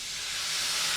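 Water splashed into hot oil and butter with cooked masala on a low flame, giving a loud, steady hiss that holds for the whole second with no talk.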